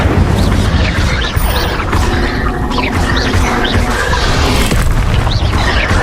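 Incendio fire spell cast in the Hogwarts Legacy video game, a loud booming blast with crackling bursts amid dense, continuous game action and effects.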